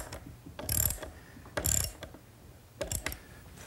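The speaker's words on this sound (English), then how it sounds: "now you can start to see what happens as I tighten the lags" Lag screws being tightened on a wheelbarrow axle strap, heard as three short, close bursts of mechanical ratcheting separated by quiet pauses, with no talking.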